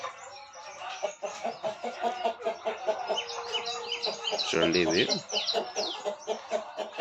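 Native country chickens cluck busily and continuously on a farm, with a breeder rooster's louder call rising near the middle, while a person talks briefly over the flock.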